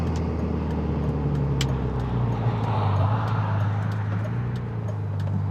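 A 2002 BMW E39 sedan on the road, heard from inside the cabin as a steady low engine drone and road rumble, with faint ticks and clicks over the constant hum.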